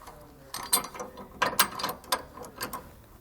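Bolts being fitted by hand into anti-sway bar brackets on a 2009 Coachworks Siena motorhome, several sharp metallic clicks and ratcheting taps in irregular bursts, close and moderately loud with no talking.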